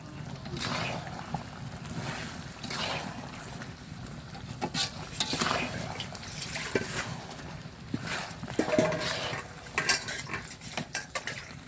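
A utensil scrapes and clinks repeatedly against a pan while sugared mango pieces are stirred, close and rhythmic scraping over faint kitchen background noise, with no talking.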